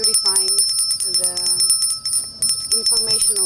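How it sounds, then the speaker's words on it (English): A small ritual bell rung repeatedly in a bright, ringing rhythm, close and loud, with a person speaking over and between the strikes. "when we want to feel the rise, we use the bell"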